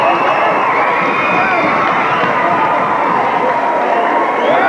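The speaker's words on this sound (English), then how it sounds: "And the crowd went wild as Ashley Dalton" A loud crowd roars and cheers steadily throughout a basketball game, a dense continuous wash of voices filling an indoor arena.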